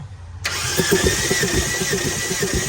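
A TATA CNG car engine cranks during a cylinder compression test: a sudden start into a loud, even, rapid chugging rhythm that holds steady with a constant hum above it.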